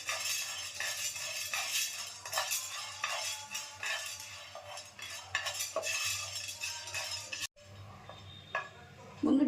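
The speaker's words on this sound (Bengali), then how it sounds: "তার জন্য আমি চানা ডাল মানে ছোলার ডাল দিলাম 2 চামচি। ডালটা সামান্য ভেজে" Chana dal (split Bengal gram) frying in a pan while being stirred, with steady clinks and scrapes of a utensil against the metal over a continuous soft sizzle; the stirring stops abruptly near the end.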